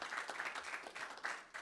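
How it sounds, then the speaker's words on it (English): Applause from a conference workshop audience at an internet governance forum, a fairly quiet patter of many hands clapping steadily for under two seconds, with no voices over it. "please clap for Mr. Wimmer"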